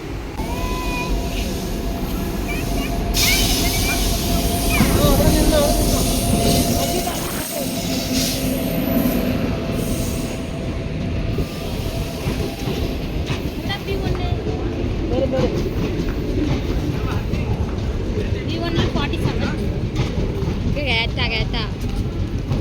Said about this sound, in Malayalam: അപ്പോൾ ഞങ്ങളുടെ ട്രെയിൻ എത്തിട്ടോ. ഇതാണ് ട്രെയിന്.